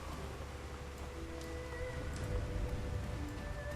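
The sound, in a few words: rain in video game Shadowrun: Hong Kong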